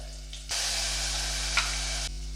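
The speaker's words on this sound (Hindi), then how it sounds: "काली इलायची और ये छोटी सी दालचीनी और थोड़ा सा जीरा। इसको थोड़ा सा भून लेंगे" Black cardamom, a small piece of cinnamon and cumin seeds hit hot oil for a matar mushroom curry. A sudden close sizzle starts after a brief quiet moment, holds steady over a low hum, then drops off abruptly.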